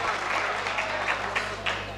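A crowd applauds at a mushaira poetry gathering in Bhiwandi, a steady wash of clapping that carries on for the whole moment with a few sharper claps standing out.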